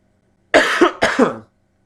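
Two sharp coughs in quick succession from a chewed cough drop stuck in the throat, close and fairly loud, followed by silence.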